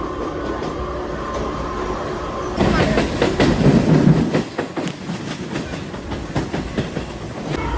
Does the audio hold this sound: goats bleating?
no